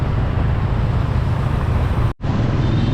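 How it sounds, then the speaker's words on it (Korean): Steady heavy road traffic at a busy intersection in Vietnam, a continuous dense rumble of cars and motor vehicles with no talk, briefly cut by a short dropout near the end. "교통량이 어마어마한 사거리인데"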